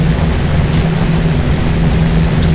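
Steady drone of an airliner's engines in X-Plane 10 while the throttle is eased back for landing, a loud continuous low hum and whine with no clear change in pitch.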